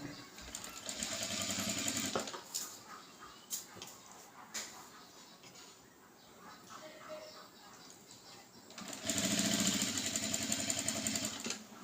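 An electric sewing machine stitching a blouse runs in two loud bursts of rapid, even whirring, one at the start and one at the end, with quieter handling and clicks in between.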